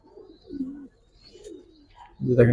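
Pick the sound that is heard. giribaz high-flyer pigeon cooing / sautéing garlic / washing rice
giribaz high-flyer pigeon cooing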